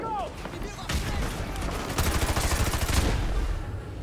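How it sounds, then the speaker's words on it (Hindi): Heavy automatic gunfire in Call of Duty, rapid repeated shots rattling loudly in a dense burst through the middle, close and intense. "बहुत तगड़ी फायरिंग हो रही है"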